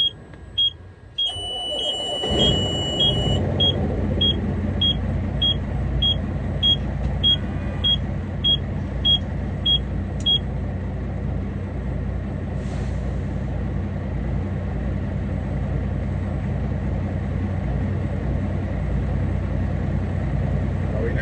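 An oilfield truck engine idles close by with a steady low rumble, while a rapid series of high electronic beeps sounds over it for several seconds early on before the engine carries on alone.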